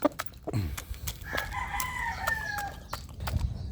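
A young asil stag rooster crows once on a chicken farm, a drawn-out, fairly clear crow preceded and followed by sharp clicks and knocks nearby.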